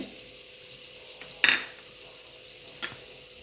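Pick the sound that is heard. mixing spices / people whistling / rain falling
mixing spices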